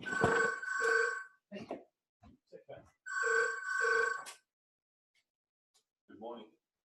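An old-style bell telephone rings loud and close in two double bursts of metallic trilling, with brief voice fragments in the gaps and a short quieter sound near the end.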